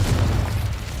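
A Confringo explosive spell in Hogwarts Legacy lands as one deep, close boom with a heavy low rumble lasting about a second.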